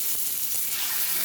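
Fish coated in mint frying in a pan, heard as a dense, even, bright sizzle that holds steady and close throughout with no break.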